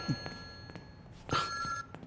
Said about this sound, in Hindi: सुना नहीं आपने? फोन उठाइए।